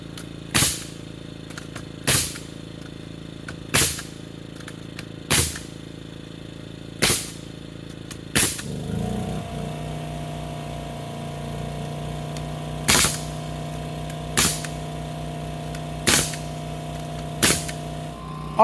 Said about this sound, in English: I'm going to shoot some 12-inch 2x4s on the corner to help support it